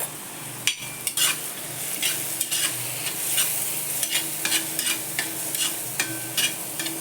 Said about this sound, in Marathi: परतू देते चांगलं